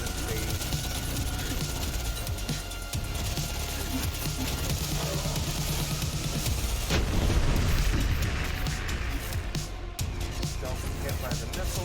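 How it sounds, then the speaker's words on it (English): Repeated missile explosions boom through a Borderlands 3 boss fight, a dense continuous barrage of blasts and rumbling impacts with game noise layered throughout and a voice talking over it. "Don't get hit by the missiles here."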